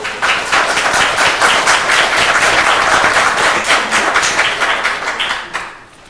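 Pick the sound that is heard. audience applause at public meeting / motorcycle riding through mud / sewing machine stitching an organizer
audience applause at public meeting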